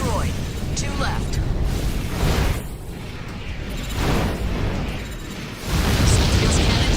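Saltia's cannon in Armored Core for Answer blows up in heavy, sustained roaring explosions, with loud booming surges and dense rumble filling the game mix.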